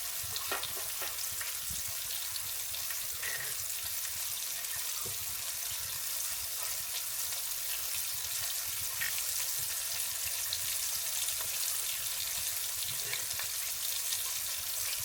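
Flour-coated chicken thighs fry in hot fat in a pan for a buffalo chicken burger, a steady close crackling sizzle running without a break.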